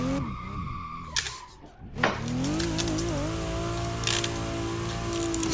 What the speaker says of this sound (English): I'm just locking up the front.